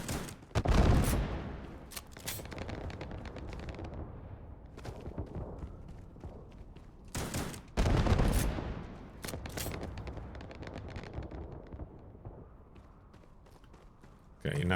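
Gunfire from a scanning weapon in the video game Starfield on an alien planet, with repeated sharp bursts of shots at intervals amid steady game ambience, loud and close.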